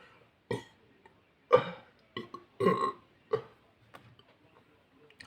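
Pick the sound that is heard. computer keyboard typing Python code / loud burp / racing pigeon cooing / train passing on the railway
loud burp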